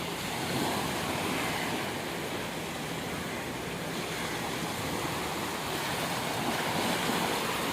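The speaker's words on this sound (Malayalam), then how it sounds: "വലിയ തിരയില്ല, വെള്ളം കയറി വരുവാണ്" Sea surf washing steadily onto a Kerala beach where fishermen cast nets, a continuous broadband roar of breaking and receding water with wind buffeting the microphone, no voices.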